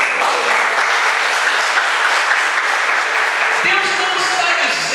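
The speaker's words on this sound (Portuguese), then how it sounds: "Você pode aplaudir o Senhor?" A church congregation applauds in sustained, dense clapping that stays loud and even, with a few voices mixed into the crowd noise.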